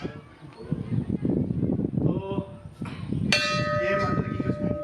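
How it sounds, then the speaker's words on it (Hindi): Bells ring at the Rukmini Devi (Khunti Devi) temple in Karauli district, bright sustained metallic tones swelling in the second half over a bustle of voices and crowd noise nearby. "तो ये मंदिर की कुछ घंटी"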